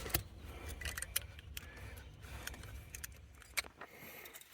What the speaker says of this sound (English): we kind of work it around with a screwdriver